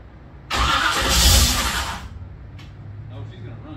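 The engine of a Mystery Machine van cranks and catches in a loud, close burst lasting about a second and a half, then drops to a low rough idle with faint clicks; a voice is heard briefly.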